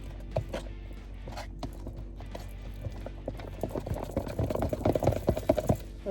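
A fork whisking and clinking against a bowl in place of a whisk, irregular scraping taps that start sparse and grow faster and louder toward the end.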